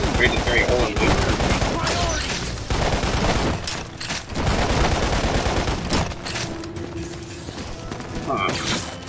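Enemies firing at the player in the video game Lost Planet: Extreme Condition, with dense bursts of rapid gunfire and a fusillade running almost throughout, loud and close, while someone talks over it.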